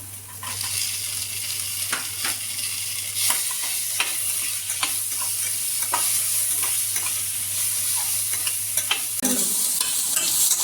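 Finely chopped tomato fries in a hot pan while being stirred, giving a steady close sizzle broken by repeated scraping strokes of the spoon across the pan's base.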